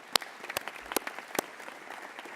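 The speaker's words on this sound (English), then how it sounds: "So please, a round of applause." Scattered audience applause for mentors at an agriculture leadership congress: a few sharp, distinct claps stand out over softer, sparse clapping in a hall.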